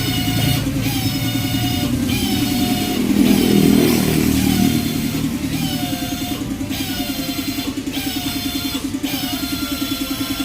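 A motorcycle engine idles loudly nearby with a steady rattling thrum, briefly revving up and swelling before settling back to a lumpy idle.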